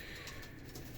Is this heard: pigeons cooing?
yes